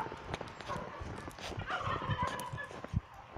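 A wild turkey gobbles in bursts at moderate distance outdoors, its rapid warbling calls rising over a quiet, slightly noisy background with a few soft thumps.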